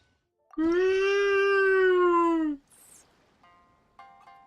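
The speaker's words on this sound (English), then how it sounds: "Must you have the loudest meow in the world, cat?" A cat in the video game Genshin Impact gives one long, loud, sustained meow lasting about two seconds, up close and alone, followed by faint game interface chimes.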